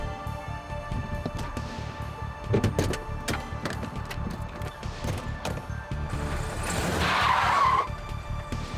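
A stolen car speeds away from the scene of an assault with tires squealing, a sustained screech over engine roar that swells toward the end, with no talk.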